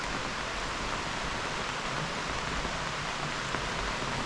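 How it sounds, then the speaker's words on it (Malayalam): Heavy rain pours steadily, a dense even hiss of downpour with no breaks, loud and close throughout. "നല്ല മഴയാ"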